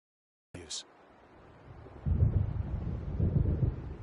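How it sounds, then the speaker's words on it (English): Low rumbling thunder from an approaching storm at a lake in Alan Wake, distant and rolling, rising after a short sharp sound and holding as a steady grumble without speech. "It seems there's a storm coming."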